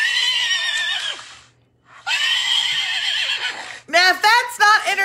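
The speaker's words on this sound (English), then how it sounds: "There looks to be a horse beating that is going on." Horse neighs and whinnies played back from a video, two long shrill calls separated by a brief silence, followed by several shorter whinnying bursts, loud and close.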